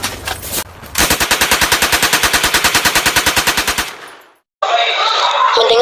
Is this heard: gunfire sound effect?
yes